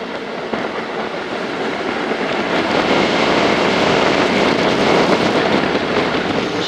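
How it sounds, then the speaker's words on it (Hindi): The 34Dn Pak Express passenger train runs on the rails between Lahore and Khanewal, passing a railway station: a loud, dense, continuous rumble with faint rhythmic clatter, heard close from on board. "6:24 पर काड़ा रेलवे स्टेशन से पास हो रही है ट्रेन हमारी"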